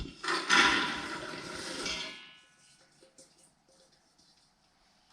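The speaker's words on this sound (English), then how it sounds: "I'm going to pour my beans in" A loud rattling rush of dry pinto beans pours into a pot for about two seconds, then a few light clinks and quiet settling.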